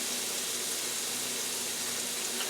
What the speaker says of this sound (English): I'll pour this excess water off.